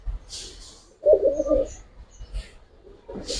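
A Giribaz pigeon coos in a short, soft burst, close by, with a few fainter coos and rustles around it in a quiet room.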